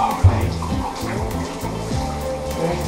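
Shower water pours steadily onto a slippery surface in a bathroom, a continuous splashing hiss heard close up, with occasional knocks and shifts in the flow.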